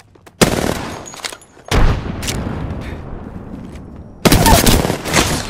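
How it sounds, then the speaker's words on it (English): Loud, close gunfire rings out in the Apex Legends video game: a sharp opening shot, then a sustained stretch of rapid fire, then another heavy burst of automatic shots. "He's getting shot at."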